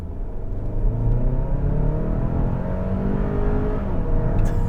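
A 2021 Hyundai Santa Fe Calligraphy crossover with a 2.5 liter engine accelerating, a steady rising engine drone heard from inside the cabin, loud and continuous with no talk.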